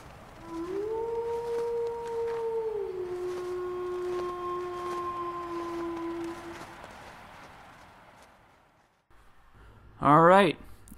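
A sled dog lets out one long, steady howl that holds and slowly lowers in pitch over several seconds, then a short rising yelp follows after a brief lull.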